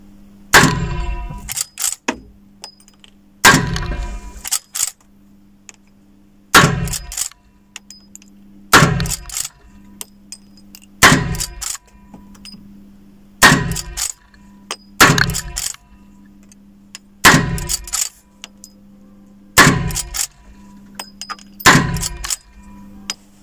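Winchester 1873 lever-action rifle in .44-40 firing at a steel gong target: eight sharp shots at regular intervals, each a loud crack followed by a ringing metallic clang that decays between shots, with faint low hum underneath.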